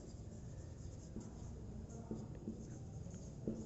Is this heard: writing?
yes